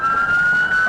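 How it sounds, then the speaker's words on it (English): A police car siren wails loud and near with a steady high tone, heard alone in a brief burst. "officers blare their lights and sirens"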